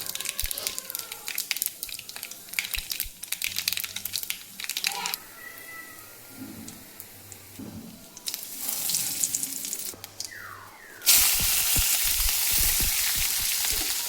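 Mustard seeds sizzle, crackle and pop in hot oil, with clattering and a burst of running water, steady and close.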